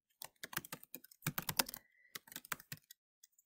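Close, quiet keystrokes clatter on a computer keyboard in quick bursts with brief pauses, alone without talk.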